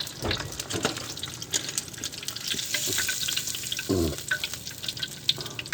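Food sizzles and crackles steadily in hot oil, a dense frying hiss with sharp spatters and brief clinks, close and fairly loud throughout.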